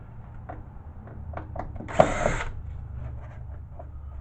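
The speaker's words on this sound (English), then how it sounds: "We're going to go ahead and use power drill on this one." A brief burst from a power drill used on an old bread making machine whirs for about half a second amid quiet background clatter and small knocks.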